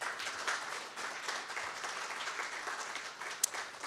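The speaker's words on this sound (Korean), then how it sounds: "여러분 박수로 맞이해 주시기 바랍니다." Audience applause at a conference session on transnational fraud, welcoming a chairman to the stage: a steady, moderately quiet wash of clapping that holds evenly throughout, with one sharp click near the end.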